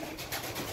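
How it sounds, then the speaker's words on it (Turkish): Pigeons cooing at the Istanbul pigeon market in Edirnekapı, a brief, dense burst of soft throaty coos from many birds close by, with no talking. "Ama yukarıda fazla kuş var ha."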